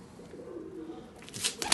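Domestic pigeons kept as tumbler-type play birds coo softly in low, rolling murmurs, faint and close, with a few sharper rustles near the end.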